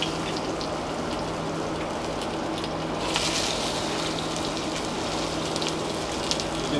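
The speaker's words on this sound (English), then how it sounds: "So I'm just going to add the onions in first." Chunky onions hit hot oil in a pan and sizzle with a steady, dense crackling hiss that swells slightly partway through, close and continuous with no speech.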